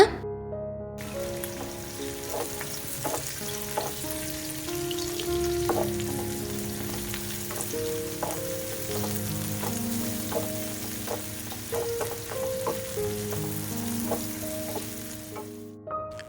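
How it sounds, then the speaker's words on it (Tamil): Sliced onion frying in a tablespoon of oil in a pan, a steady soft sizzle with occasional stirring clicks and scrapes, accompanied by quiet background music. "அடுத்து ஒரு பேனில் 1 டேபிள் ஸ்பூன் எண்ணெய் சேர்த்துட்டு இதில் ஒரு பெரிய வெங்காயத்தை நீளமாக நறுக்கி சேர்த்துக்கலாம்."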